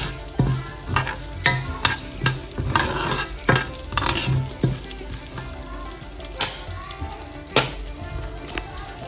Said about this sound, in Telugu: ఫస్ట్ ధనియాలు వేయించుకోవాలి